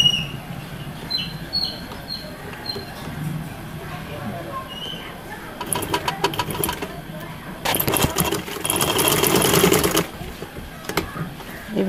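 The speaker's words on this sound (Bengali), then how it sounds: "আমি মেশিনে আবার একটু সেলাই করে নিব সাইডটা" A sewing machine runs in short bursts while stitching the side seam of a boy's baby outfit. The brief whirring runs are close and get longer toward the end, and a voice talks in between.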